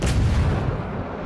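Heavy naval gun salvo from the battleship Texas in World of Warships: Legends, a single loud, deep boom that rolls out and fades over about a second.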